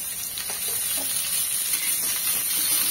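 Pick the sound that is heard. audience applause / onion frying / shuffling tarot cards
onion frying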